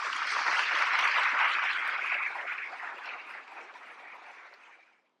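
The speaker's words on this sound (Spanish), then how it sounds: "Les pido un aplauso para Marino Restrepo, con quien les dejo." Audience applause welcoming a speaker at a testimony talk, a fairly distant wash of clapping that is full at first, then thins and fades to silence.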